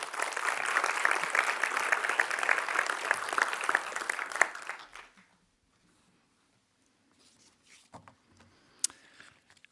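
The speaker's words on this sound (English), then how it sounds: "may I ask for a warm applause for our director, Willem Duyvendak" An audience at an academic-year opening ceremony applauds the director, a dense, even round of clapping that fades out after about five seconds into near silence with a few faint handling sounds.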